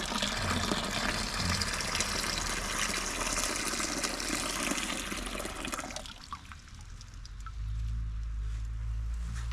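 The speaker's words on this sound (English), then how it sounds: "so we'll empty our second one down here." Maple sap pours out of an emptied sap bucket in a steady, gushing stream for several seconds, then stops abruptly, leaving quieter outdoor background noise.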